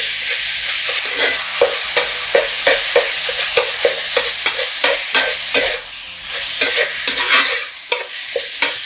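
Peppers sautéing with Big Dad herb seasoning in a pan for 70's-style stuffed peppers, a steady close sizzle broken by regular scraping stirs of a spoon, loud and continuous with no talk.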